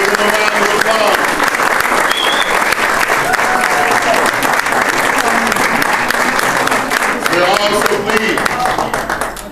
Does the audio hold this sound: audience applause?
yes